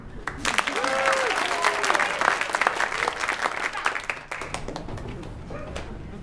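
An audience claps and applauds at a musical comedy performance, a dense, sustained burst of applause with crowd noise and a faint tonal voice running through it, tapering off near the end.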